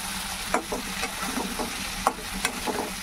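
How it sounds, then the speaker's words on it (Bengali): Cinnamon fries in a hot pan with a constant close sizzle, punctuated by a few sharp clicks and scrapes of stirring. "হলো দারচিনি এটা ভাজা ভাজা হয়ে যাচ্ছে"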